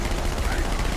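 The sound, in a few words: gunfire from a video game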